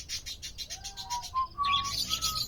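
Lutino cockatiels chirping in a quick series of bright, close tweets followed by a few longer whistled calls, fairly faint, with no voices.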